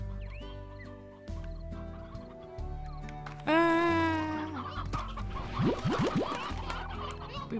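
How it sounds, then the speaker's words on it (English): Chickens in the video game Slime Rancher cluck repeatedly over a layered game soundscape, giving a steady series of close, moderately loud clucks with one louder squawk in the middle and no speech. "Oh yeah, I forgot they have like infinite chickens."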